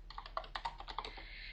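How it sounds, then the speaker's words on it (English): Rapid typing of commands on a computer keyboard while playing the Aardwolf MUD text game, a quick run of close, crisp key clicks with no talking. "All I need to do now is type get corpse."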